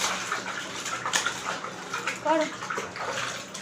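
Water sloshing and splashing as a baby plays in a bathtub, with soft irregular splashes throughout and someone talking over them.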